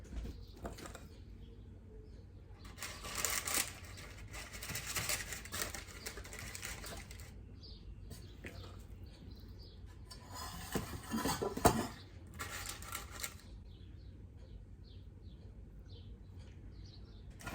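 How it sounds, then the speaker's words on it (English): Vegan blueberry muffin batter is scooped into large metal muffin tins, giving bursts of clinking and scraping that come and go, with quiet gaps and no talking. "I'm just going to scoop equalish amounts of batter into each one."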